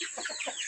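Brief clucking from a brooding hen on a Filipino farm, a few short close-up clucks with no talk.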